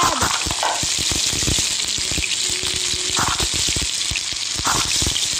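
Food frying in melted butter in the Toca Kitchen cooking game: a steady, loud sizzle runs throughout, with sharp crackles and pops scattered over it.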